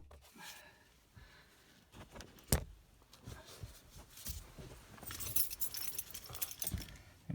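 Car keys for a Ford Focus jangling close by in a hand, light metallic rattles and chinks with one sharper knock, shifting irregularly and fairly quiet, with no talk.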